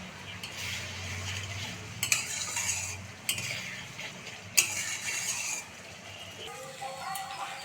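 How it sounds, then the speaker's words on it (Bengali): A spice paste with a little water is stirred in a pan for a Bengali pabda fish curry with mustard-poppy paste: continuous scraping of a spoon against the pan, a soft sizzle and occasional sharper knocks, close up. "এর মধ্যে এখন হালকা অল্প জল দিয়ে দিব মশলাটা ভালোভাবে কষানোর জন্য"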